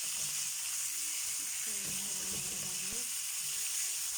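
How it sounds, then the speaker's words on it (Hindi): Chicken frying for chicken karahi in a home kitchen, a steady hissing sizzle of hot oil that runs throughout, with a few soft low knocks of stirring in the middle. "ये देखिए फ्राई हो रहा है हमारा चिकन।"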